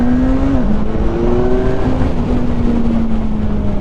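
Kawasaki Ninja 1000 SX motorcycle accelerating hard, a loud, steady engine note rising slightly in pitch over a few seconds with a shift partway through, with wind roar behind it.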